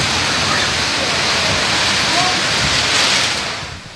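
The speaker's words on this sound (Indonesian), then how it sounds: "video amatir yang diambil oleh warga saat hujan disertai angin menerjang pemukiman warga" Heavy rain driven by strong wind sweeps over a village settlement in Gendong, Ngawi, as a loud, steady broadband roar that fades slightly near the end.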